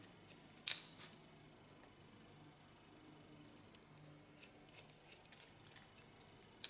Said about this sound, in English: Lifting up and use the point cut technique.